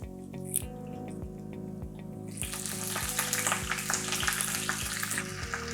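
Garlic and spinach frying in oil in a pan, a crackling sizzle that swells loudly once the leaves go in, close and steady, with a soft rhythmic background beat and faint clinks.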